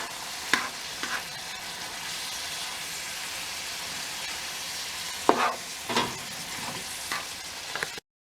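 Ground beef, onions and peppers fry in a pan in an off-grid RV camper, a steady soft sizzle broken by a few scraping stirs and utensil knocks, close up and without talking.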